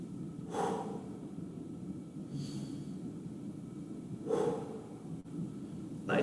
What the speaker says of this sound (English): 2 more deep breaths with me now.